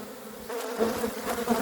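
Honey bees buzzing at a hive, a dense, continuous close drone with no talking, steady and moderately loud throughout the short moment.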